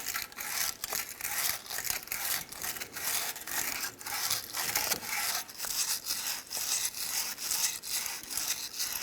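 Steady rhythmic scrubbing as corrosion and rust are worked out of the wheel hub on a 2014-2019 Toyota Highlander during a wheel bearing and hub replacement, a close, gritty back-and-forth rasp repeating throughout without talk.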